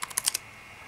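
Several quick, close keystrokes land on a computer keyboard while a username is entered into PuTTY, a short burst of clicks that trails off into quiet.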